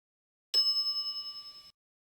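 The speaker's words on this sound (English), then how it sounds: "some idiot's already ringing that stupid bell" A shop counter bell in The Secret of Monkey Island gives a single bright ding that rings on for about a second with a steady, fading shimmer, heard alone in silence.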